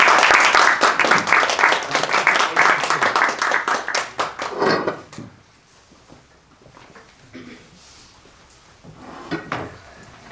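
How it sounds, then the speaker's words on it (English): Round of applause from an audience welcoming a speaker at an educational talk, loud crisp clapping for about five seconds that quickly thins to a few scattered claps and quiet room noise. "Let's give him a big round of applause"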